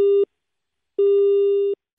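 A telephone busy tone after a call is hung up: two clean electronic beeps, a short one then a longer one, with silence between and a brief noise at the end.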